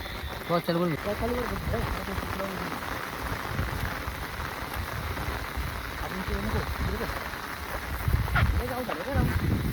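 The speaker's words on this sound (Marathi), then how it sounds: "सगळी पाऊस देखील पडायला लागलेला आहे" Rain falls steadily on a grassy area at night, a continuous hiss of drops that holds throughout, with voices talking over it.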